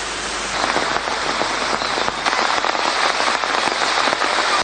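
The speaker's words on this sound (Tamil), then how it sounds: "பண்டாரவளை பகுதியில் தொடரும் மழையினால் பண்டாரவளை ஆற்றில் வெள்ளப்பெருக்கு ஏற்பட்டமை எமது கேமராவில் இவ்வாறு பதிவானது." Continuing heavy rain during flooding around the Bandarawela river area in Sri Lanka, a dense steady hiss of downpour hitting surfaces, loud and unbroken throughout.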